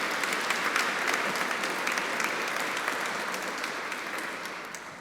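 An audience at a formal oration gives a sustained round of dense clapping that slowly fades toward the end, with no voices over it.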